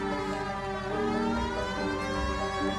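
A police car siren in the L.A. Noire video game wails steadily and loudly through the whole stretch, its layered tones holding over a low engine-like rumble with no pause.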